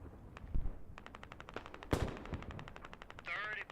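Video game battle gunfire: rapid machine-gun bursts and single sharp shots, some loud and close, others distant, with a voice talking underneath.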